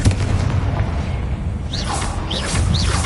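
A Confringo blasting spell explodes in a wizarding video game with a deep, loud boom and a whooshing rush, then rumbling game noise follows.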